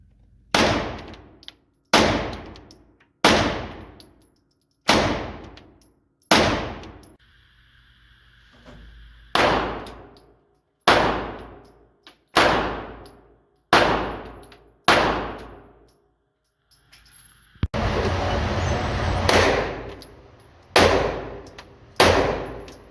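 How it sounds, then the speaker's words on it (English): Pistols fitted with Threat Cadre and DSC Gunworks compensators fire about a dozen sharp, loud shots at a steady pace, each ringing out, with a brief gap and a stretch of rougher noise near the end. "let's look at some footage of our guns going head to head and how they shoot"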